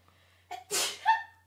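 A single sharp human sneeze in a quiet recording studio, preceded by a short intake of breath and ending in a brief voiced tail, close and clear with no other sound around it.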